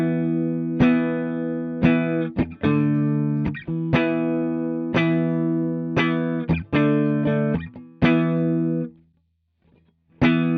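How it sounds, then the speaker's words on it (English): Clean guitar notes and chords repeat in sharp attacks, each followed by fading echoes of delay, with a brief silence near the end and no talking. "A delay effect records your signal and plays it back for you at a different time."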